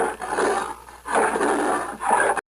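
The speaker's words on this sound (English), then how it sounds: "leopard," A leopard roars in three rough, sawing bursts in a steady rhythm, heard close and loud with no other sounds.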